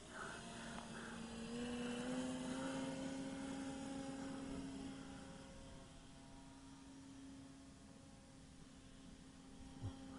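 A Dynam Tiger Moth RC model biplane on a 4S 2600 battery flies and then hovers, its electric motor and propeller giving a steady droning whine that rises and shifts pitch at moderate distance.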